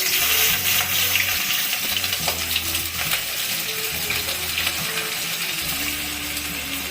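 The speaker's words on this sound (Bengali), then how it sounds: "আমি একটা মিডিয়াম সাইজের পেঁয়াজ কেটে নিয়েছি ঝিরি করে এখন পেঁয়াজটা ছেড়ে দিচ্ছি" A thinly sliced medium onion dropped into a hot pan and frying for a mashed gourd and pointed gourd dish, a loud, continuous broadband sizzle with crackling and no talk.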